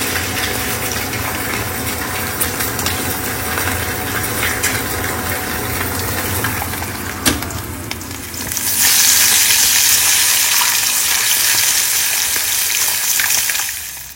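Eggs frying in a pan make a steady, close sizzle throughout, growing louder and brighter about halfway through as the hiss intensifies and continues alone without talk.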